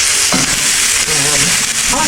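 Loud, close sizzling of peppers stir-frying in a hot pan, with scraping stirs breaking through the constant hiss.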